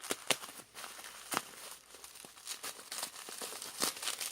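Plastic bubble wrap around a purchased photocard package crinkles and tears in quick bursts of sharp crackles, close and fairly soft, with no talking.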